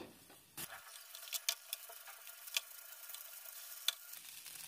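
Chicken egg fried rice with chili sauce being stir-fried over high flame: a faint, quiet sizzle broken by several sharp scraping and clinking strokes of a utensil in the pan, close but soft.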